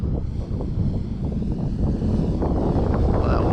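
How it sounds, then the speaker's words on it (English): Strong wind buffets the microphone outdoors at an RC flying field, a continuous loud low rumble and roar that swells slightly without letup. "Oh, that wind."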